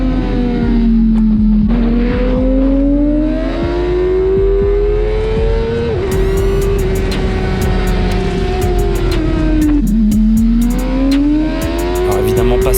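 A racing motorcycle screams along the pit straight of a race track, loud, close engine note rising and falling through gear changes, with a voice talking over it.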